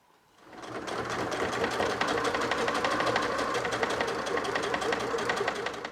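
A sewing machine runs steadily, stitching the side seams and front hem of a 1930s-style garment, with a fast, even mechanical whir starting after a brief quiet moment and holding loud and close throughout.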